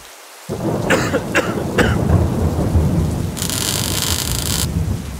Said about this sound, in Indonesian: kok hujan sih?